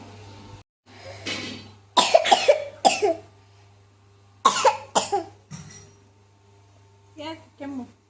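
A person coughs in a close, dry series of hard bursts, several in quick clusters, with short pauses between them in an otherwise quiet room.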